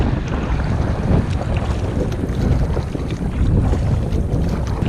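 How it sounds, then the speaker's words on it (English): Strong wind buffets the microphone while a canoe is paddled into a headwind on a lake in Algonquin Park, a loud, continuous rumbling roar with water noise underneath and no talking. "Heading right into the wind at the minute, towards the portage."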